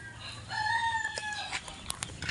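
Gamefowl chickens and roosters in a backyard coop, with a clear rooster crow rising over a low murmur of clucking birds close by.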